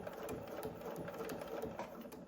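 Sewing machine stitching a fabric oven mitt, a steady fast whirring needle rhythm at low volume, heard close up without talk.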